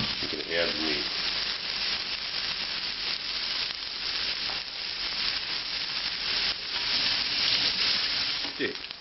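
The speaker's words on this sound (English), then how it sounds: "The pan's starting to smoke, it's very hot. I'm going to add the meat." Ribeye steak sizzling in a smoking-hot pan, a dense continuous hiss and crackle that holds steady throughout with occasional pops and stirring sounds.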